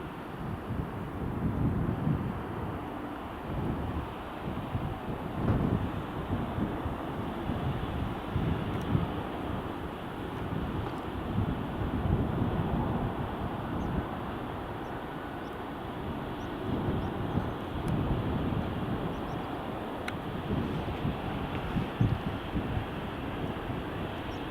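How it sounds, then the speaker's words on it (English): A WestJet airliner approaching Edinburgh Airport gives a steady, broad engine roar that holds for the whole stretch, with wind buffeting the microphone outdoors. "WestJet's coming in on the approach now."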